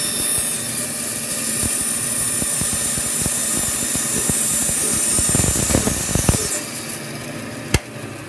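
A power saw in a school technology workshop cuts slowly along a curve, giving a steady, loud machine whine with a broad roar. Rough bursts of cutting noise build near the end, then the blade stops and one sharp knock follows.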